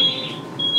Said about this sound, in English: Our alarm's going off, what?